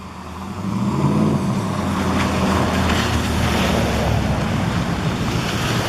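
Rising floodwater from Hurricane Helene, fed by drainage runoff, rushes steadily into a creek in Athens, Georgia, a loud, continuous broadband roar mixed with wind buffeting the microphone.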